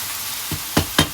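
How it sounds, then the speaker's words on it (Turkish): Eggplant dish sautéing in a pan, with three quick scraping stir strokes over a soft, steady sizzle, close and clear with no talk. "güzelce kavurdum"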